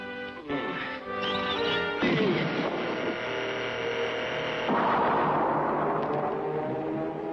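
A loud, sustained sci-fi blast of harsh tonal buzzing and crashing roar, shifting partway through into a denser rushing burst that continues to the end.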